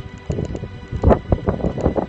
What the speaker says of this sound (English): Quite a strong wind blowing up here.